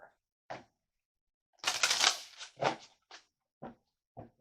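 Tarot cards are drawn and handled close by: sharp papery snaps and flicks come in short separate bursts, with one longer riffling rustle in the middle and quiet gaps between.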